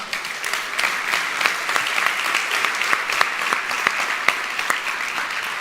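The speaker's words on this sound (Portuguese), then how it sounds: "Uma salva de palmas para quem está vivo, né?" Audience applause at a motivational talk, dense continuous clapping with sharp individual claps standing out, steady and fairly loud throughout.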